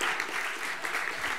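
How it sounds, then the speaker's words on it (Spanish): Warm audience applause at a school book award gala in Andalusia, a dense burst of clapping that stays full and even for its short length. "Muchas gracias, un fuerte aplauso."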